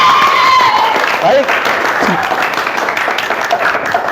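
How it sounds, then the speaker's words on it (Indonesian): Applause from a discussion class or group session fills the room as a dense, continuous clapping, with a voice speaking over it near the start. "Dan selanjutnya tepuk tangan untuk semuanya"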